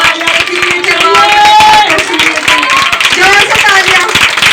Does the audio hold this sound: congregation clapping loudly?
yes